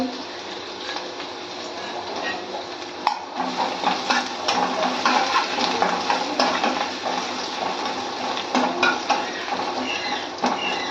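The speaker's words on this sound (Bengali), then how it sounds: "বাড়িয়ে দিলাম একটু খুব বেশি তেল দিনি অনেক তেল দিনি আর এই দেখো গ্রেট করে রাখা আদা দিলাম" Grated ginger fries in plenty of oil in a pan at home, with a continuous close sizzle, clinks of a utensil against the pan and occasional stirring scrapes, under light background noise.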